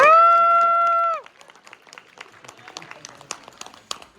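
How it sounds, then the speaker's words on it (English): Scattered, light applause from a convention panel audience at Kawacon, following a sustained electronic tone; the clapping is sparse and fairly quiet. "I think that deserves an applause right there, everybody."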